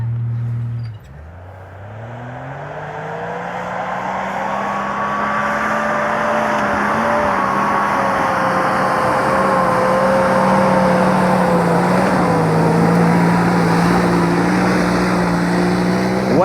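Jeep Cherokee XJ engine revving hard off-road, a loud sustained drone that dips, then climbs and holds high with wavering pitch as the throttle is worked, close and dominant.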